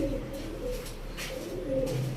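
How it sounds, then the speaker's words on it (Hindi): Several pigeons coo softly and repeatedly nearby, their low throaty calls overlapping against a steady background murmur. "ये हमारा ब्रीडर कबूतरों का सेटअप है"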